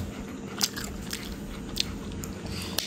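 Crunchy bites and chewing of spicy tawa-fried chicken chops, a few sharp crunches spaced out over quiet close-up mastication.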